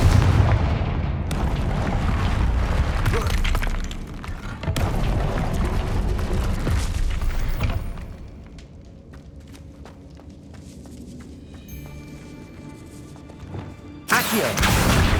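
Spell blasts in the Hogwarts Legacy video game, a Confringo fire spell among them: loud bursts and booms come in close succession for about eight seconds, then quieter game ambience, then a sharp loud burst near the end.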